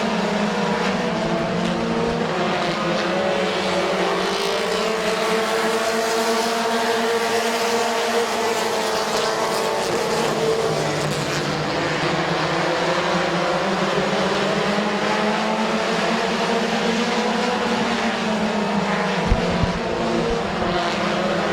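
Compact race cars roar around the Midvale Speedway track in a close feature battle, loud continuous engine drone with rising and falling pitch as the pack passes, no voices over it.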